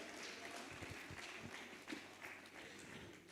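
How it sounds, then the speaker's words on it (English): A round of applause at an award ceremony for a Green Advocacy Award winner, a continuous crowd clapping texture, very faint and distant throughout. "Please, a round of applause for Dr. Abdullahi."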